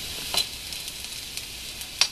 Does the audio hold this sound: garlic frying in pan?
yes